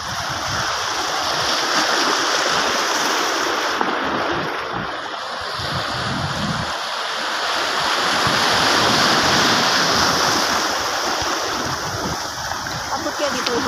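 Steady roar of sea surf rolling in at a rocky province beach, broadband and continuous with gentle swells in loudness and some wind buffeting, no clear speech over it.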